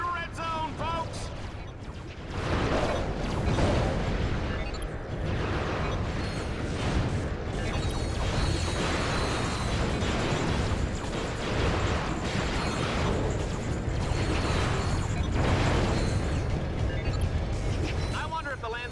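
Explosions and gunfire in the PS2 shooter Ratchet: Deadlocked: a dense, loud barrage of blasts and rapid shots that builds after a quieter start and keeps pounding without pause, with a voice talking over the battle.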